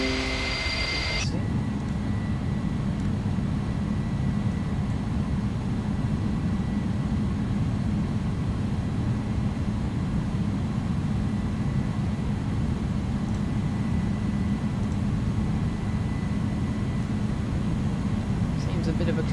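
An Airbus Beluga ST airliner climbing out in a flight simulator game near Hamburg: a steady, dense low engine roar holds evenly throughout, with a brief brighter tone at the very start.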